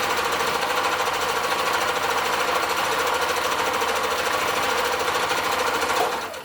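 A sewing machine runs fast and steadily, stitching a double seam on a fabric face mask, with a loud, continuous mechanical whir that cuts off at the end.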